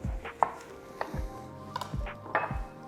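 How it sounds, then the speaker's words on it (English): Knife slicing a lemon on a board, with four separate, fairly quiet cutting knocks at an uneven pace, close by. "Gonna slice a little lemon."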